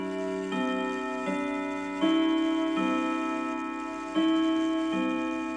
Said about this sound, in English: That sound comes from a grandfather clock, also known as a long case clock.